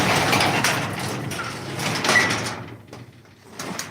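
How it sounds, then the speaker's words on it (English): A squeaky door creaks open in a room of a home-made haunted house, a drawn-out scraping mechanical squeal that fills the first couple of seconds, then quiets with a little faint rustling after. "Oh, the door's squeaky"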